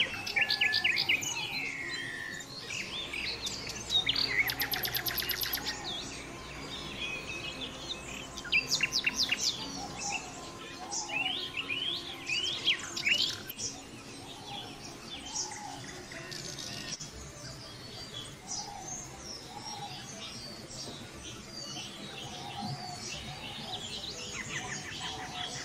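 Many jungle birds sing and chirp at once in a deep forest, overlapping whistles, trills and tweets near and far, steady through the whole stretch with no talk.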